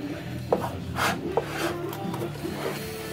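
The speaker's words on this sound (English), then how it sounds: "you take your wood spatula, just kind of stir it up" A wooden spatula stirs thick blackberry jam in a pot, making soft scraping and rubbing strokes with a few light knocks against the side, close and fairly quiet.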